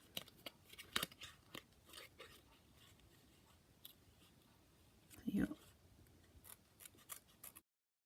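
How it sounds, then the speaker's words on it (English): A few sharp snips of scissors cutting paper for a rose card, close by and fairly quiet, with soft rustling between the cuts. "place your scissors on a bit of a 45-degree angle and cut around"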